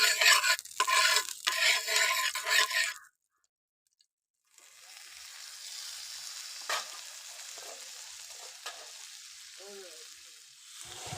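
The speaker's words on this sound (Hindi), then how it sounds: "एबे अलना शुखुआ भाजवा तावर टे तेल पकई" Unsalted dried fish frying in oil in a pan, a steady soft sizzle with occasional crackles after a loud burst of stirring and scraping that breaks into a brief silence.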